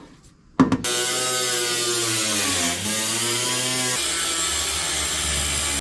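A power cutting tool bites into the damaged body of a Nissan Gloria car, starting abruptly after a brief quiet and running as a loud, steady whine whose pitch dips under load, then shifts.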